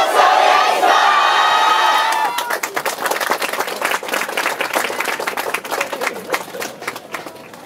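An outdoor crowd at the Ryoma Yosakoi 2015 dance festival, Ryoma stage, claps and cheers loudly in a dense burst after a short amplified voice, the applause continuing with scattered shouts.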